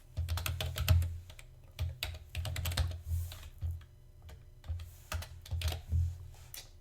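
Keys tapping in quick bursts on a computer keyboard while a name is entered into CNC toolpath software, close and clear with short pauses between runs of keystrokes and no talking.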